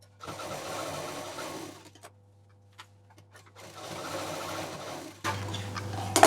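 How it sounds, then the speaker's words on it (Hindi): Sewing machine stitching fabric pieces together for a travel handbag made from leftover fabric, running in two steady bursts with a quiet pause between and a louder clatter at the end. "इसको भी हम यहाँ पर मिला करके सिल देंगे और उधर का भी कंप्लीट कर देंगे"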